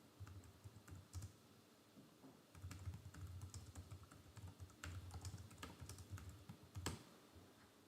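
Someone types a name on a computer keyboard in quick, irregular runs of soft key clicks with brief pauses, quiet and close, with no talking.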